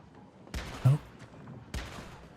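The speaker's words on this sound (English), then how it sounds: "What are these shotguns even shooting at?" Shotguns fire in the Once Human video game, two loud, sharp blasts about a second apart, with a brief thump between them against a quiet background.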